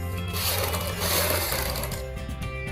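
Sewing machine stitching a half-inch-wide yellow fabric strip for a suit neckline design: a loud, steady, close whirring run of the motor and needle, with no voices.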